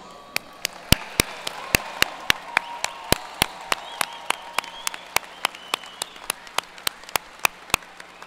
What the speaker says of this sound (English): Let us salute them with our applause.